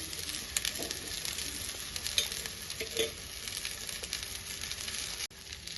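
Leftover cooked rice frying in a pan for egg fried rice, a continuous soft sizzle with scattered crackles and stirring scrapes, close and moderately quiet.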